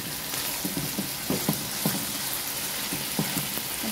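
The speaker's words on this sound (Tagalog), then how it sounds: "Tapos natin prito siya sa gilid." Chicken liver sizzles steadily in a hot pan while a utensil scrapes and clicks against it in irregular stirring strokes, close by.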